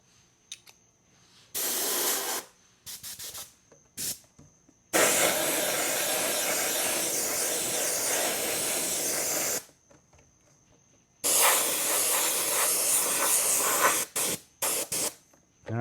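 Opaque white paint is sprayed from a can onto an RC crawler body: several short hissing bursts, then a long steady spray, a pause and another long hiss, all close and alone.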